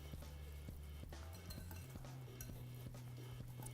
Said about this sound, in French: On prend un fouet et on remue tout doucement.